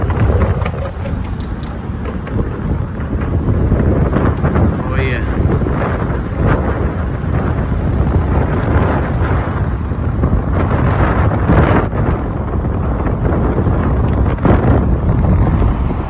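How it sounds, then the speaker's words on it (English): Heavy wind buffeting the microphone while walking across the Brooklyn Bridge in New York, a loud continuous low roar with gusty swells, and someone talking intermittently underneath. "I know you guys can hear the wind."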